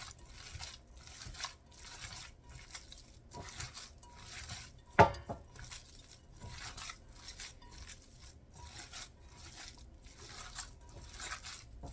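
Meatloaf mixture with spices, salt, ketchup and bread being mixed by hand: soft, repeated squelching and kneading pulses at a steady rhythm, close and quiet, with one sharper knock near the middle.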